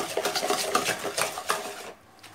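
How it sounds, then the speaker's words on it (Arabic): Cookie dough ingredients with ghee being mixed by hand in a bowl, a rapid rhythmic series of close scraping, knocking strokes that stop abruptly near the end, with no voices. "وبقلب الكلام ده كله مع بعض كويس جدا جدا"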